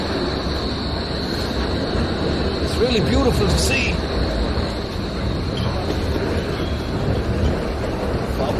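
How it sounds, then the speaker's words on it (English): A tram passes in Berlin near Alexanderplatz, a steady rumble of rail wheels and motor heard under constant street noise while someone talks over it. "Look at that tram, beautiful."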